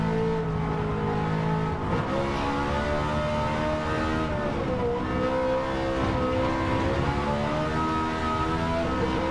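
A Ferrari F430 in a race on track drones with a steady, loud engine note, pitch rising and falling through corners over curbs, with no break in the sound and no talk.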